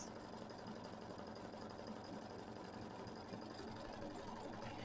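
Steady, close mechanical whirring and rapid stitching rhythm from an embroidery machine sewing around a Kimberbell mini quilt block, running evenly without pause.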